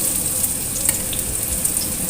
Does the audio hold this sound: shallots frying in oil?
yes